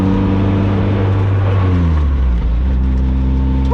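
A supercharged Toyota AE86 pulls hard in fourth gear, its engine note a loud, steady drone with rising harmonics that dips and climbs slightly, heard close from inside the car with no talk.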